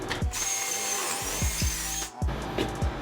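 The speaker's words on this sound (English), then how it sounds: "I'm gonna finish drilling all these" A power drill bores into a wooden floor joist in short, grinding surges, with dull thumps and brief pauses between the bursts.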